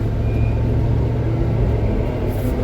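A 1973 Jeep Commando with an AMC 304 V8 and three-speed manual 4x4 drivetrain pulling away, a steady low rumble close by, with no talking.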